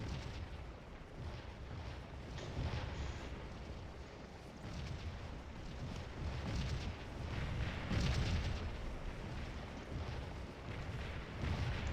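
Artillery booms in the Civil War battle game Scourge of War, a dense, rumbling barrage of distant cannon fire rolling continuously with heavier swells.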